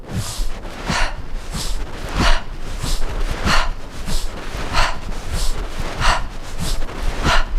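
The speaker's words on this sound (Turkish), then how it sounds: "Evet hazırsak önce derin bir nefes alıyorum." Rapid, forceful breath-of-fire breathing during a morning energizing exercise, sharp nasal exhales pulsing at a steady quick rhythm, loud and close with no talking.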